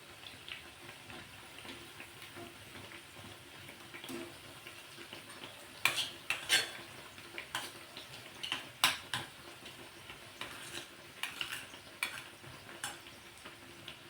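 Urad dal vadas frying in hot oil, a soft continuous bubbling sizzle with occasional clinks and scrapes of a utensil against the pan, quiet and close, with no talking.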